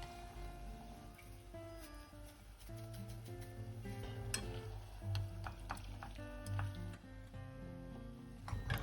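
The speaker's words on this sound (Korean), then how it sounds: "면과 면수를 조금 넣고 볶아줍니다." Noodles and a splash of noodle cooking water stir-fried in a pan at home, with steady low sizzling and repeated clicking, scraping strokes of a utensil against the pan throughout.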